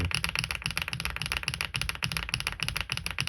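Steady, rapid typing on an AULA F87 mechanical keyboard with HMX Violet switches, a dense run of crisp clacky keystrokes close by with no talking.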